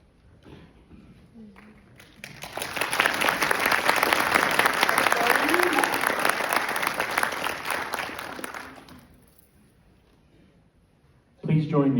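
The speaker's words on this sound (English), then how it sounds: "Please join me in another round of applause for the Drill Sergeant Leader of the Cycle." A crowd applauds at a military basic training graduation ceremony for the Drill Sergeant Leader of the Cycle, the clapping swelling quickly, holding steady and loud for several seconds, then fading out before a brief burst of sound at the end.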